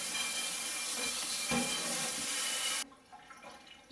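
Cauliflower is rinsed under a running kitchen tap, a steady hiss of water that cuts off sharply near the end and leaves a few faint clinks.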